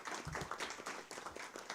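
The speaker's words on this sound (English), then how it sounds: "give a round of applause to our speakers for the opening session" Scattered, fairly quiet clapping from a conference audience applauding the speakers of an opening session, brief and uneven.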